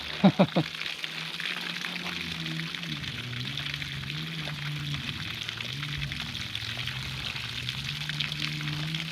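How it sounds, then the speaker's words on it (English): Water steadily drains and trickles from the open drain plug of a fiberglass jet sail boat, a continuous splashing wash lasting throughout, with a voice talking faintly underneath. "I'm gonna pull the other drain plug"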